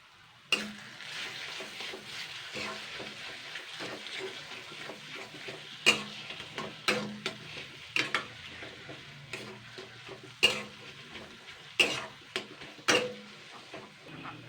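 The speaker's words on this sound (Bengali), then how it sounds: "বেসনগুলোটা দিয়ে এবার ভাজবো আরও 2-3 মিনিট" Taro leaves coated in gram flour batter frying in a pan, a soft low sizzle under irregular sharp spatula knocks and scrapes against the metal, no voices.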